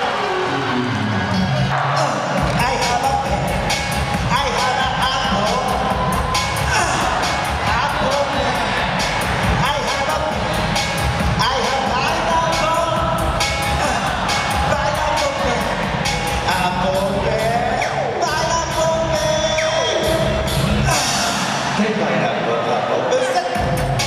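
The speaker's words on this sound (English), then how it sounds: "Wow, the crowd sounds amazing." A large crowd of fans roars and cheers continuously at a live concert by a singer in Malaysia, loud and dense throughout with music and shouting mixed in.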